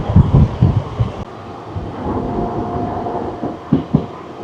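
A Howrah to Amta local train on Indian Railways rumbles along loudly from inside, with rhythmic wheel knocks over rail joints at the start and end and a steady roar between.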